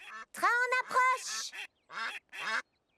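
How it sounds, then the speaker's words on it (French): Cartoon ducks sitting on railway tracks quack in a string of loud, nasal, voiced bursts, several close together and then two separate calls after a short pause. "Oh non, des canards sur les rails."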